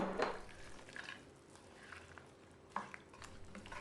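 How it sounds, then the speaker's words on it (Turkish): Bulgur köfte dumplings are stirred gently in a pot of liquid, giving soft wet squishes and light scrapes against the pot, with a few clearer clinks. The sounds come in slow, irregular strokes at close range. "hemen köfteleri de ilave ettim güzelce karıştırıyorum narin bir şekilde"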